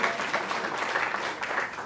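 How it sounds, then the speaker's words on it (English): A crowd at a community college groundbreaking ceremony claps in a sustained, dense round of applause, steady and fairly loud throughout. "Yes, clap for that."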